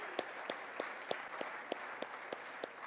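Sparse, light audience applause with a few sharp individual claps standing out at irregular intervals over a soft, steady room wash, fairly faint and brief.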